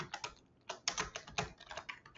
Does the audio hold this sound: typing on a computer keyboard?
yes